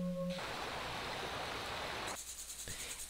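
Soft, steady hiss of recorded flowing-stream water from a relaxation sound app, even and continuous, then cutting off abruptly into quieter background near the end.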